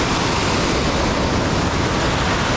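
Norwegian waterfall roaring as a steady, dense broadband rush of falling water, constant and loud throughout without any talk.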